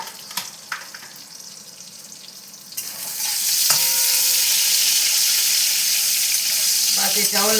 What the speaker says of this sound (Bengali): বা এটাও লাল লাল করে ভেজে নিলাম, 2 পিঠি একটু করে ভালো করে ভেজে নিই একটু